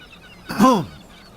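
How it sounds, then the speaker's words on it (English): One short honking bird call rises over faint background noise, a nasal squawk lasting under half a second, from the video game Divinity: Original Sin 2. "Listen to all those birds."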